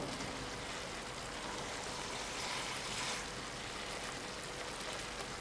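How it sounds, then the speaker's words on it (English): Water pours steadily into a pot of brown stew gravy with veggie chunks, a continuous soft rushing splash that stays even throughout, close and fairly quiet. "I'm going to be adding a little bit more water."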